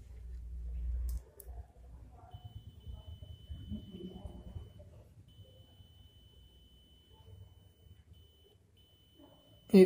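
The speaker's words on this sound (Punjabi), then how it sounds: "ਇਹ ਔਫ ਕੰਡੀਸ਼ਨ ਦੇ ਵਿੱਚ ਬੀਪ ਦੀ ਆਵਾਜ਼ ਕਰ ਰਿਹਾ।" A multimeter on continuity test across a faulty freezer thermostat relay gives a steady, faint high beep that holds unbroken for most of the stretch, with handling noise and a low voice underneath.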